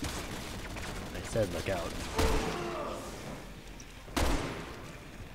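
Gunfire in Resident Evil 6, with two sharp, loud shots about two seconds apart over a busy game soundtrack while someone talks.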